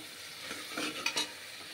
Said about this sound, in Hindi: मैं तड़का लगा रही हूँ सब्जी को